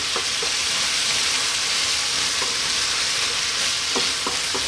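Okra cooking with lamb in a pot gives a loud, dense sizzle that holds steady, with a few soft scraping stirs cutting through and no voices.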